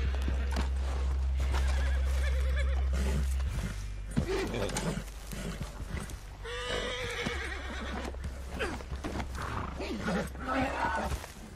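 A horse neighs and whinnies in a video game over clip-clopping hooves and game music, with shouting voices mixed in throughout.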